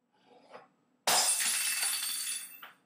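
A drinking glass shatters with a sudden loud crash, and bright tinkling debris scatters and rings out for over a second after a few quieter sounds beforehand.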